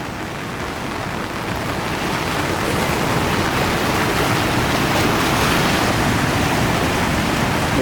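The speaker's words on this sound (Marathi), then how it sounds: "पहा किती वेगात पाणी पडतं आहे" The flooded Nar river in monsoon spate roars past, a loud, dense and continuous rush of fast-moving water that swells slightly and holds steady throughout, with no voices.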